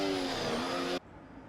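A race car in a racing video game slides, its engine droning loudly with a steady whine before cutting off abruptly, leaving faint background noise.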